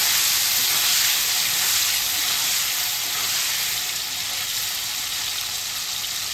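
Kabuli chickpeas fry in a pan, giving a loud, continuous sizzling hiss close by, with soft stirring underneath and no talking.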